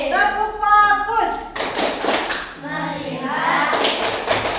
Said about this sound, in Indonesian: Masih. Tepuk fokus.